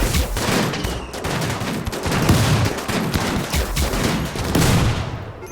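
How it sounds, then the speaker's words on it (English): Rapid bursts of rocket and weapon fire rattle continuously in a RimWorld battle, dense overlapping explosions and shots at steady high loudness without pause. "I heard more rockets go off"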